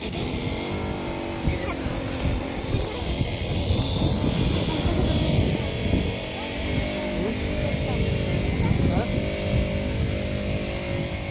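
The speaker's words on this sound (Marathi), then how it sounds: "आता इथं मल्टिप्लायरच्या स्प्रेचा पंप मारत आहेत" A motorised spray pump runs on a farm spraying a multiplier soil treatment, its engine drone loud and continuous throughout, with voices talking over it.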